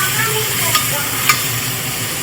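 Paneer pulao with mint and coriander is stirred in a pan under a steady sizzle, with a couple of sharp spoon scrapes against the metal.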